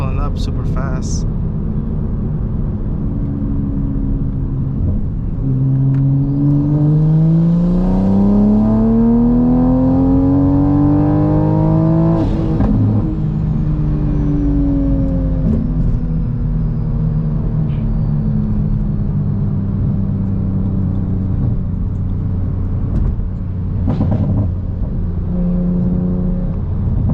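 A turbocharged mk5 Toyota Supra on low boost accelerates through the gears into fourth on a street, the engine note rising loudly and then dropping at shifts, with a driver talking over it.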